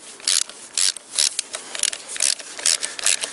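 A ratchet tightens the flywheel bolts on a Toyota VVT-i engine during assembly. It gives a close, steady run of rasping clicking bursts in a regular back-and-forth rhythm, with no talk.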